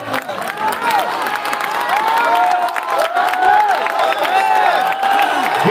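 Audience applause and cheering at a live mushaira (Urdu poetry gathering) in Bhadohi, a dense, steady wash of clapping from a large crowd with scattered shouts and whistles, continuous throughout.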